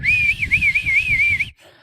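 A voice imitates the little whistle on the side of a car: a steady, wavering whistled tone held for about a second and a half, close and fairly loud, then cut off abruptly.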